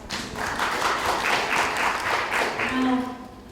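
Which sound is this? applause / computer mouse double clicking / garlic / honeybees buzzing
applause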